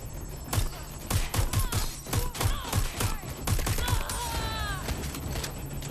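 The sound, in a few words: gunfire in the video game Watch Dogs Legion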